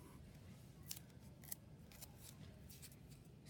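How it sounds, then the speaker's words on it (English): Scissors trim excess material on a fingerpainting craft piece, several crisp close snips spaced irregularly over a quiet background. "I'm just going to trim it off because I don't want it sticking through."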